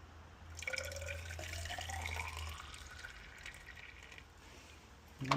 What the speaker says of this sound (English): This is a washer fluid. We're going to go ahead and add some.